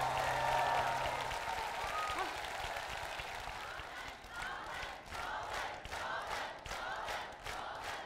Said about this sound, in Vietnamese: Vỗ tay cho em đi vô.